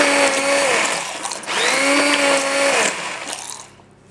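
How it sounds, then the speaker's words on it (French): A blender purees lemon tart filling in two loud motor bursts, its whine rising in pitch within each run before the sound cuts off and fades to quiet. "Elle va utiliser un mixeur broyeur."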